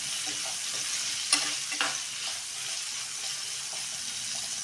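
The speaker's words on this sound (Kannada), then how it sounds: "ಇವಾಗ ಇದು ಚೆನ್ನಾಗಿ ಎಣ್ಣೆಯಲ್ಲಿ ಫ್ರೈ ಮಾಡ್ಕೋಬೇಕು ನೋಡಿರಿ" Cauliflower (gobi) frying in hot oil, a soft continuous sizzle with a couple of sharp clinks and stirring scrapes from a utensil near the start, close and without talk.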